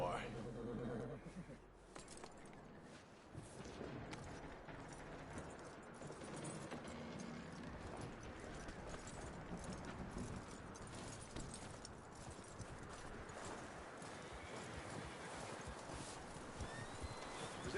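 Horse hooves clip-clop steadily through Red Dead Redemption 2, a continuous walking rhythm blended with rustling ambience while someone talks over much of it.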